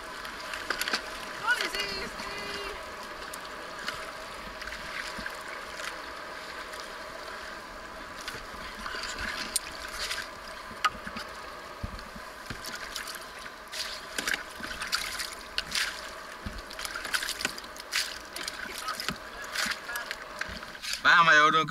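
Canoe paddling on the Ivalo river in Lapland: steady water rushing and trickling around the hull with occasional splashes, heard close up beneath intermittent talking between the paddlers.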